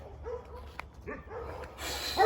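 A very small dog gives a few short, high yips and barks with whimpering in between. The sounds are close and quiet against a soft room background, and a burst of noise comes at the end.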